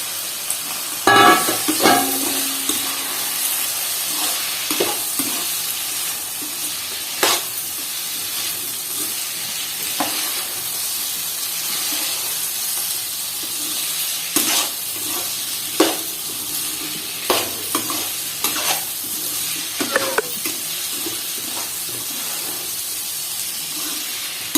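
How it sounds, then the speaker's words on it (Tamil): Chilli kolukattai dumplings sautéing in a pan, a steady sizzle and hiss with intermittent scraping stirs and clinks throughout, no talking. "இப்போ இந்த கொழுக்கட்டைய போட்டு தாளிச்சுக்கலாம்."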